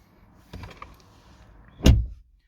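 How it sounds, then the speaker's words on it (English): A soft mechanical click and rattle, then a louder thunk as a Ford Fiesta ST door releases and swings open, close by with no talking. "I open the door"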